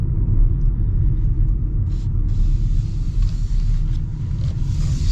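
Loud, steady low engine rumble from a 2025 Hyundai Kona turbo while driving, a continuous road drone throughout with no talking.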